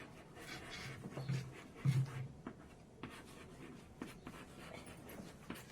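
Pen scratching across paper while working a geometry problem, soft close strokes in short bursts with pauses between, quiet and without voices.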